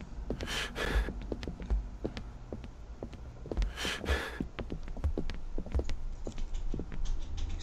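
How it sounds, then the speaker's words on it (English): Footsteps of people walking in the horror video game Erie, a steady run of soft, close thuds and taps pacing through the whole stretch, with a couple of brief breathy swells. "Sounds like other people is walking behind me"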